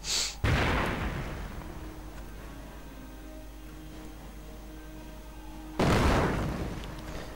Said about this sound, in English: Perhaps a small mortar duel here, it looks like.